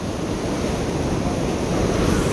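Ocean waves wash in at Udupi beach, a dense, steady roar of surf close by with wind noise buffeting the microphone and no voices.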